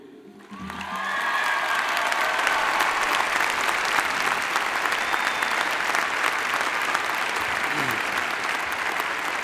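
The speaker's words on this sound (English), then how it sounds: "Please join me in welcoming Tamam Waritu." Sustained applause from a large audience at a graduation ceremony, rising quickly after a short pause and then holding loud and even, a continuous wash of clapping with no talk over it.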